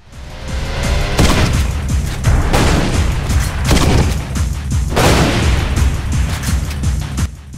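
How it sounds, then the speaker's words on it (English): Repeated booming 40mm grenade blasts from the M319 grenade launcher in Halo Reach, loud and close, several heavy explosions rolling one after another with no talk. "The grenade launcher fires 40mm grenades"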